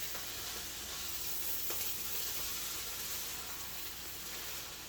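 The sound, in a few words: kale being stirred and sizzling in a pan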